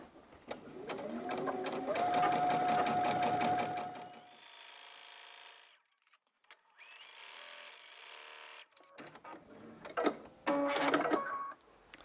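A sewing machine quilts three layers of a rag quilt, running in fast rapid bursts of rhythmic stitching with pauses between runs, close and fairly loud, with a steady hum while stitching.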